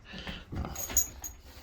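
A dog whimpers in short, soft whines and breathy sounds, fairly close and quiet, with no one talking.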